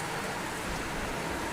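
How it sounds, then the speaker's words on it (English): Rain beginning to fall around a boat sheltering under bridges, a soft, even hiss of drops spread across the whole moment, fairly faint and steady, with no voices. "it is definitely starting to rain, so we're trying to hover under these bridges"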